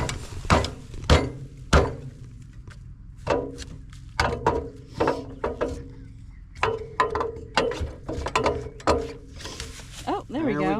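Sharp metallic hammer blows strike in an uneven series, some close together, freeing a snagged tree stump during pasture clearing, with a voice speaking briefly near the end.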